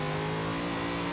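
Brief, close burst of a swapped-in V8 revving in a 2015 Volvo S60 Polestar drift build in Forza Horizon 2, a loud, steady buzzing drone.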